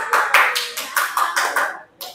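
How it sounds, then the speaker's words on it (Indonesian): A classroom of grade 8C students claps in unison, about eight sharp, evenly spaced bursts of clapping with a brief pause before the last one, loud and close. "Beri tepuk tangan buat kelas 8C."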